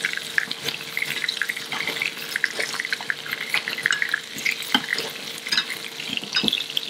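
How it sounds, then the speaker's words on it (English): Turbot fillet frying in a pan in a restaurant kitchen, a steady crackling sizzle with scattered pops and faint clinks, continuous and close, with no talking. "We're just gonna cook it in the pan, not in the oven."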